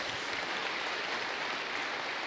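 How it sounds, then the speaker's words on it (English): A church congregation applauds during a homily, making a dense, even wash of clapping that stays steady and fairly close throughout, with no voices rising above it. "I'm not sure what you're applauding for"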